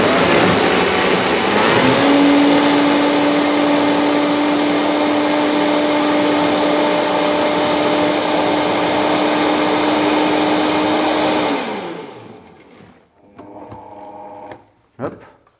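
Blender whirring loudly as it speeds up through a thick fromage blanc smoothie, rising in pitch early and then holding a steady drone before cutting off, followed by a few brief clinks and handling sounds.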